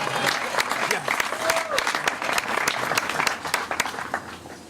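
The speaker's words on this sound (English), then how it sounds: "Give yourselves a round of applause" Wedding guests break into dense, lively applause, sharp close claps and cheering sustained for several seconds, with voices mixed in.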